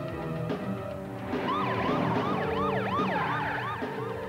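Wailing ambulance siren from a Slovak VHS trailer for the film Ambulancia, its rising and falling sweeps repeating steadily and loudly over a dense music and vehicle background, with no talking.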